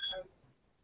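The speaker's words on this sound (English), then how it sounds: "The timer just went off." A kitchen timer goes off with a short, bright electronic beep that quickly fades, faint and alone in a quiet room.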